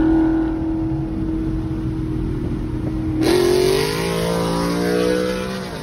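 A supercharged Ford Mustang's loud engine roars steadily, then surges as gears shift and the pitch climbs under hard acceleration, with a high supercharger whine riding above the rumble.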